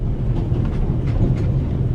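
A passenger train rolls steadily in The Raven - Legacy of a Master Thief, a continuous low rumble with faint rhythmic clatter, heard alone without talk.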